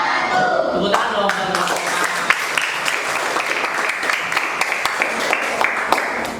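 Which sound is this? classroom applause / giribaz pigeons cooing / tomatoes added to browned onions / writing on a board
classroom applause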